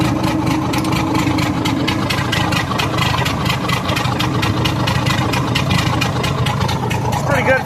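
Minneapolis Moline engine from a Navy G705 truck, fitted as a new replacement engine, idling steadily and loudly up close with a continuous low rumble.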